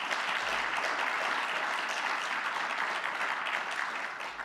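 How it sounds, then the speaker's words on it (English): An audience at a university awards celebration gives sustained, even applause for the honorees, a dense wash of many hands clapping at a moderate distance that tapers slightly near the end. "How about giving them a round of applause again?"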